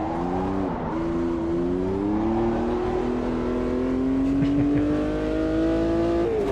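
A race car engine in Automobilista 2 powers uphill, a loud, steady droning roar whose pitch climbs gradually as it accelerates, with a brief dip in revs early on, heard alone and close.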